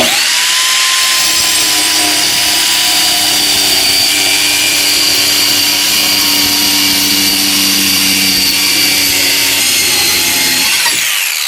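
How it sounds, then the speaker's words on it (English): A Harbor Freight Bauer compact circular saw rips through 3/4 inch plywood, a loud steady whining motor with grinding blade noise lasting nearly the whole span, close by and alone before spinning down at the end. "Now we're cutting through 3/4 inch plywood with the Bauer blade."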